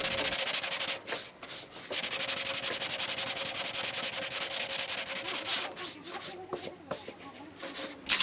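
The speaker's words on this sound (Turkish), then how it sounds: "80 zımparayla macunun yüzey üzerinden taşan noktalarını tamamen düz bir seviyeye gelene kadar zımparalıyorum" 80-grit sandpaper rasps steadily against hardened body filler on a damaged car bumper in long continuous strokes, with a few brief pauses and choppier passes near the start and end.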